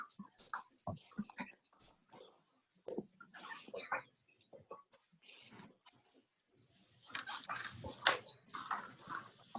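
A dog in a home kitchen whimpers and whines in short high-pitched bursts, close to the microphone, broken by brief pauses and soft clatter, with faint chirpy tones mixed in.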